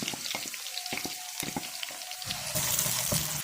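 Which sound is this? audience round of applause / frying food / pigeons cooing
frying food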